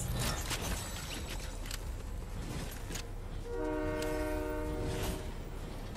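A train horn in the Fortnite video game blares with sustained harmonic tones during the second half, over constant rumbling rail noise and game sounds.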